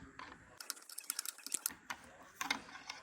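Bolts are tightened while assembling the legs of a barstool ordered from Amazon: a quick series of faint, close clicks and small metallic ratcheting taps, irregular and sparse, in a quiet room.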